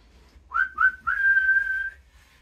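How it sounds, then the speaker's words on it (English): Referee's whistle at a Mangotsfield United v Nags Head football match: two short blasts followed by a long sustained one, loud and clear over a quiet low background, with no talking. "Referee's got his whistle in his mouth."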